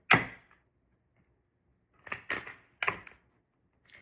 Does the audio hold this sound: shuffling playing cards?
yes